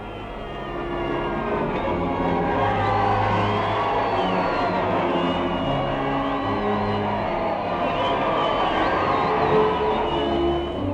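A large crowd at Liverpool cheers and shouts in welcome of arriving American troops, a dense, loud, continuous roar of voices with whoops, laid over an old archival recording.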